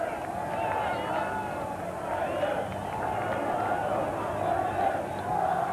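A large crowd of motor racing fans swarms onto the Silverstone circuit at the 1992 British Grand Prix, a dense continuous roar of cheering and babble with a commentator talking over it.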